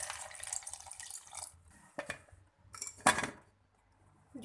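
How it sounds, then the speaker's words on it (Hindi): Water from a glass splashes in short, close pours into a juicer blender jar already holding strawberries, sugar, salt and ice cubes, in a few bursts separated by pauses. "2 गिलास पानी डाल देंगे।"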